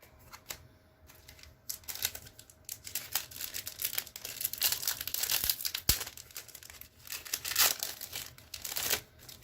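A Strixhaven Magic: The Gathering set booster pack's foil wrapper torn and crinkled open by hand, close and crisp, with bursts of crackling and tearing over several seconds and no talking.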